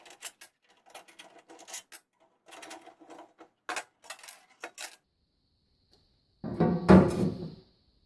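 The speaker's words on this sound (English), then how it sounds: "grab our 3/8 ratchet or 5mm Allen key or hex and go ahead and remove these 4 bolts so we can get this cover off" A 3/8 ratchet removing four bolts from the cover of a Generac XG series generator makes quick, close clicking bursts separated by short pauses, then a louder clunk and rattle near the end, with no voices.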